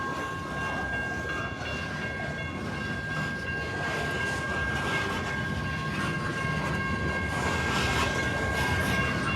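A Paducah and Louisville Railway freight train rolls past a grade crossing with a steady rumble and wheel noise, while a crossing bell rings continuously, loud and near throughout.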